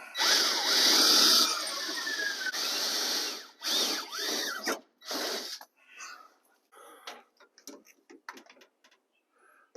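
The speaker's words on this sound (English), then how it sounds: "I think we need to drill those holes down there and fasten that bottom." A power drill boring holes to fasten a steering column, with a few bursts of whirring of varying length that taper into short intermittent clicks and handling noises.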